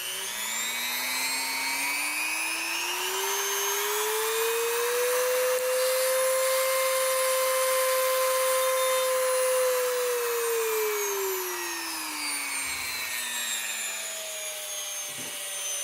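A Depstech DM180 rotary tool runs steadily on its own, a high motor whine ramping up in pitch, holding for several seconds, then winding back down, close and continuous.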